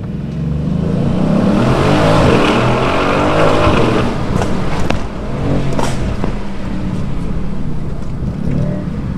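A 2020 Mercedes-AMG GLC 63 compact SUV pulls away hard from a traffic light, its engine roaring loud and close as it accelerates, with a brief lull around a gear change before the strain builds again.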